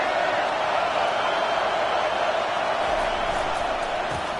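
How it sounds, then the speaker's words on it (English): Broad, continuous roar of a large crowd, loud and unbroken throughout, like a packed stadium making noise. "This crowd bringing the energy and noise early."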